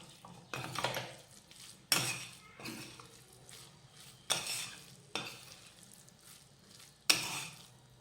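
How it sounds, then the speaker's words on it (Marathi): A spoon stirs paneer bhurji with finely chopped coriander in a pan, making a soft frying sizzle broken by several distinct scraping strokes and clinks at irregular intervals, close by. "कोथिंबीर घातली की आता हे मिक्स करूया"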